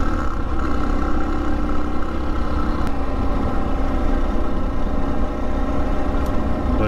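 A 2023 KTM 500 EXC-F dual sport motorcycle engine runs steadily while being ridden, a continuous close mechanical drone with wind rush and no voices.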